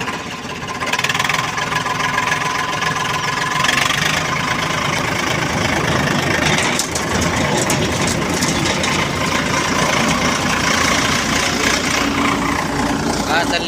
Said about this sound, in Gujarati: ચલો ભાઈ તો હલર ચાલુ કરી દીધું છે.